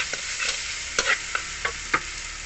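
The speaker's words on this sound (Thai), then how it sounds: "ผัดไป คนเครื่องปรุงกับเส้นกับหมูไอ้มันเข้ากัน" Rice noodles, pork and seasoning are stir-fried in a pan for pad see ew made without soy sauce. A close, steady sizzle is broken by several sharp scraping stir strokes at uneven intervals, and no one speaks.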